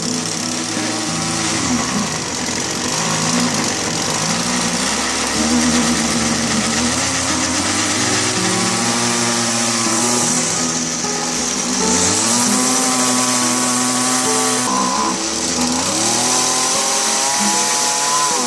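A petrol weed eater engine runs loud and close for the whole stretch, its pitch wavering and surging as the throttle rises and falls, with no talking.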